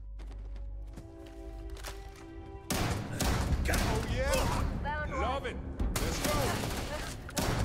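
Gunfire in the space RPG Starfield on very hard difficulty, arriving as loud bursts of shots and thuds after a quieter opening, mixed with combat effects and chatter.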